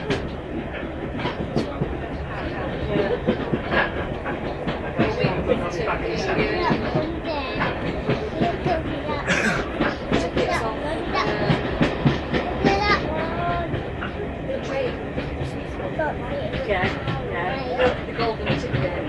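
A Paignton steam train runs along the rails with a steady rolling rumble and repeated clicking from the wheels, heard from on board with passengers talking over it throughout.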